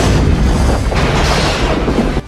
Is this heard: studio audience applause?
no